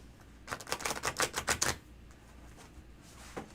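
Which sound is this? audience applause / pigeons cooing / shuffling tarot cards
shuffling tarot cards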